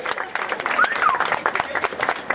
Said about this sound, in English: big round of applause, huge round of applause for Sonja Bernhardt.